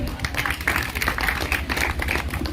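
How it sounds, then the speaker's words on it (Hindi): Students clap together in a room, a dense run of quick, uneven hand claps at close range that keeps up steadily, with little other sound. "फिर से ताली में जान नहीं लग रहा बाबू"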